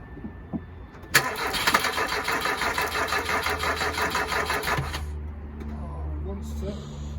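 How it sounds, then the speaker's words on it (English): A car engine, not started in nearly five years, cranks hard and steadily on a jump pack for about four seconds with a rough, churning whir, then stops abruptly without starting, leaving quiet background noise. "Let's have another go with the jump pack."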